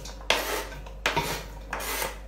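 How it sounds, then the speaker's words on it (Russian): A large pot is handled in a home kitchen and set down, giving three quick scraping, rubbing metal clatters spaced evenly apart. The sounds are faint and there is no talk. "Такая большая кастрюляка у меня."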